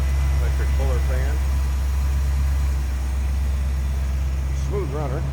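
A 1940 Buick Special street rod's engine idles with a steady low rumble under nearby talking, constant and close from start to finish.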